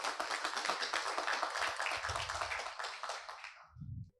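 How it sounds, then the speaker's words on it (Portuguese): Brief round of clapping from a small audience at a podcast event, fairly faint and steady, cutting off abruptly after about three and a half seconds, followed by a few low thumps. "Uma salva de palmas"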